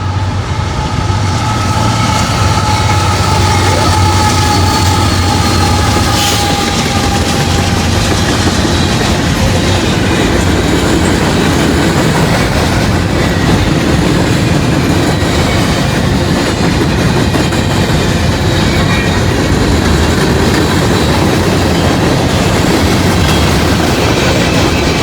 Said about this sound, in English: It's going to be the all gondola train.